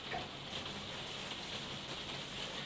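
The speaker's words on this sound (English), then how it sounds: "You'll have to excuse the rain on the roof." Steady rain patters on a roof, a dense, even hiss with soft drops throughout and no voices.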